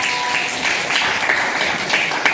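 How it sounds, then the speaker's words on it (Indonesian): A classroom audience at a deep learning lesson claps steadily for a student named Jason, a continuous even wash of applause with no pauses across the short stretch. "kasih tepuk tangan untuk Jason"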